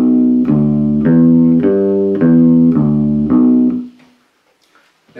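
A bass guitar plays a walking bass line for beginners, with steady sustained notes stepping up and then back down in an even four-beat rhythm, close and loud, ending in a fading note and silence.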